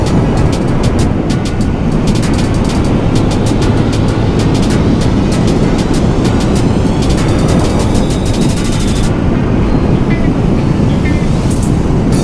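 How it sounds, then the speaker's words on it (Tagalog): Loud, roaring wind buffets continuously during a motorcycle ride, a dense broadband rush that never lets up, with faint high clicking and rattling above it. "Malakas ang hangin."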